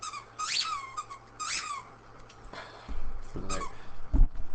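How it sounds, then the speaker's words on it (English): A dog squeaks a rubber toy, giving two loud, close squeals with rising and falling pitch, then weaker squeaks and thumping handling noises. "we're gonna listen to this dog squeak his toy"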